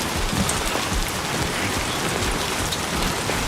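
Steady, dense timefall rain hisses without a break in the video game Death Stranding 2, loud and close, like a downpour on surfaces.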